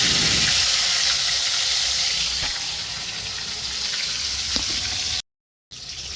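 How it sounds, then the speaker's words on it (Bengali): Whole garam masala, cumin seeds, bay leaves and tomato fry in hot oil with a steady, loud hiss and sizzle, close up, broken by a brief silent gap near the end. "তেলের ওপর আমি গোটা গরম মশলা একটু সাদা জিরে আর তেজপাতা দিয়ে দিলাম আমি একটা টমেটো দিয়ে দিলাম"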